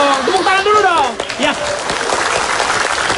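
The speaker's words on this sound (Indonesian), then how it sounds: "Tepuk tangan dulu dong" Studio audience at an Indonesian TV talk show breaks into applause, with a speaking voice at the start before steady clapping fills the room.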